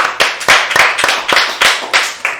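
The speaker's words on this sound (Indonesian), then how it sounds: "Tepuk tangan untuk pemerintah kota." Sharp, close claps ring out in an uneven run of about ten strikes, crisp and loud with no talk, applause for the city government at an event about Pertamina fuel subsidies.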